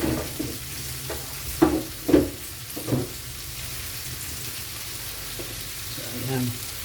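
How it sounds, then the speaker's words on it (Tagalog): Milkfish (bangus) that is not fresh fries in a pan with a steady, low sizzle, broken by a few louder spitting bursts in the first three seconds and a softer flare near the end. "Ang ating piniritong bangus. Bangus na pinirito, hindi"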